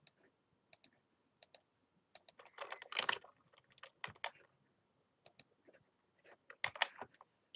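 Quiet, irregular taps of a computer keyboard and mouse clicks, a few isolated clicks followed by short flurries of typing while copying and pasting.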